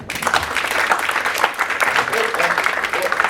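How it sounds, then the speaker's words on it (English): An audience applauds a contestant at a sommelier competition, with steady, dense clapping from a roomful of people filling the whole stretch and faint voices mixed in. "please a round of applause for Kenny"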